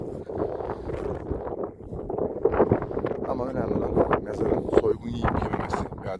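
Strong wind buffets the microphone on a hilltop at an ancient necropolis site, a continuous rumbling roar with gusty swells, while someone talks over it.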